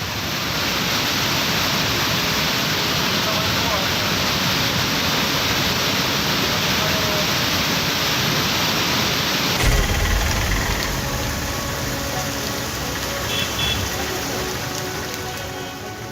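Floodwater from heavy rain rushes into the Kedareshwar temple in Ratlam, a loud continuous roar of flowing water with no pause, the tone shifting partway through.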